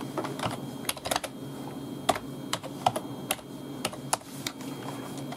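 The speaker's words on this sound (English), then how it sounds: "But I'll just type my username on there." A vintage PS/2 keyboard hooked to a modern computer is typed on, giving a brisk, uneven run of sharp, clacky keystrokes close to the mic, with short pauses between bursts and no voices.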